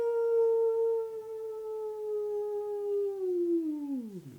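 A man imitates a wolf howl with his voice, a single sustained tonal note held for several seconds before sliding downward at the end, fairly clear and alone.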